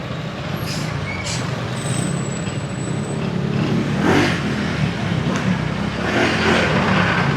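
Honda Giorno 125 scooter fitted with an upgraded DR radiator, accelerating in traffic with a steady, close engine drone that swells as it pulls away.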